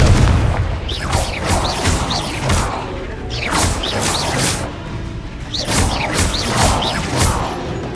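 Repeated Confringo fire spell blasts in Hogwarts Legacy: loud booming explosions with whooshing bursts, several hits in quick succession over continuous battle noise.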